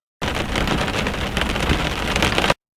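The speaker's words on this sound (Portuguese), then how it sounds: "Apenas o barulho constante da chuva lá fora. Gotas tamborilando na janela." Steady rain falls and drums on a window, a dense continuous patter with a low rumbling undertone, heard alone and fairly loud throughout as a background effect.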